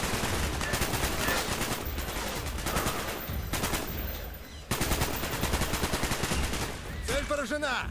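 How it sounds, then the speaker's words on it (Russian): Rapid automatic gunfire from the video game Call of Duty: Black Ops, loud bursts of machine-gun shots repeating across the clip with brief gaps, layered over game sound effects. "Я в него стреляю"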